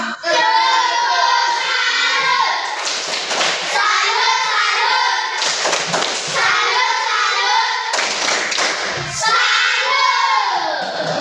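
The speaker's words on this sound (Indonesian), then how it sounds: "tepuk salut dulu untuk kalian semua" A class of schoolchildren chants the tepuk salut clapping routine together, their voices in unison punctuated by bursts of rhythmic hand claps and thumps, close and lively.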